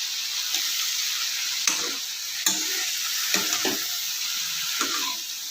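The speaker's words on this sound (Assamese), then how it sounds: "ভাজি দিলোঁ মাছখিনি" Small fish fry in a pan with a constant bright sizzle, and every second or so a spatula stirs or scrapes through the oil, clearly and close up, with no talk.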